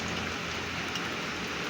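Rain falling during typhoon Opong, a steady, dense hiss of drops on surfaces, even and continuous throughout at moderate loudness with no voices.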